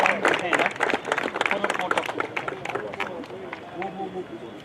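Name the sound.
applause at football trophy ceremony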